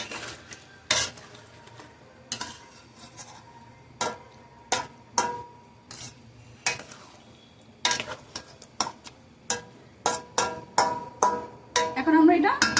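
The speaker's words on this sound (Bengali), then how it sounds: "এখন আমি এটা ভালোভাবে মিক্স করে নিচ্ছি।" A utensil stirs mixed vegetables with cornflour slurry in a pan, giving regular close clinks and scrapes against the metal at a steady rhythm over a faint sizzle, quickening toward the end.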